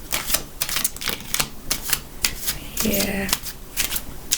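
Tarot cards are shuffled close by in rapid, repeated riffling bursts, with one short spoken word in the middle.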